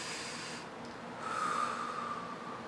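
A single soft breath drawn in through the nose, quiet and close, lasting about a second against faint background hiss.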